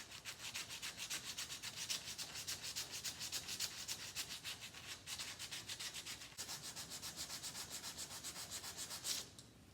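Steady back-and-forth rubbing of 220-grit sandpaper over wood, close and continuous with a fast, even rhythm, briefly pausing near the end; no talking.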